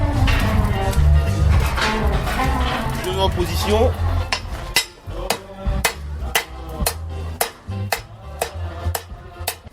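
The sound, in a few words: hammer blows on a small piece of metal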